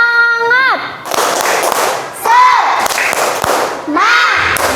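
A primary school class in Indonesia does the rhythmic 'tepuk semangat' clap, with bursts of sharp claps between loud chanting and shouting from the children, close and energetic.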